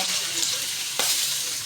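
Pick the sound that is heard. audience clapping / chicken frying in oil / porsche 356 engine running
chicken frying in oil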